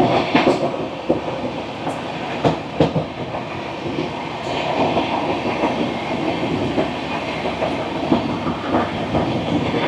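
The 12353 Lalkuan Express runs at speed, a loud, continuous rumble with rhythmic clickety-clack of wheels over rail joints, heard close from on board, with no voices.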